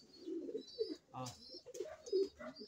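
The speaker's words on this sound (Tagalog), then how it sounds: "Yan guys, yung mga ibon natin na nasa labas." Several doves coo in soft, low murmuring phrases that overlap, with a faint higher chirp now and then and no talking.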